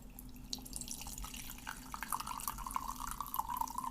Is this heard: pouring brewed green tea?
yes